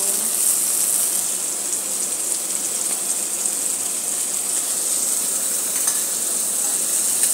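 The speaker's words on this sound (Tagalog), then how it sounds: "So yung grilled namin sa kawali ko lang ginagawa" Chicken grills in a frying pan with a steady, even sizzle and hiss that holds close and unbroken throughout, no voices over it.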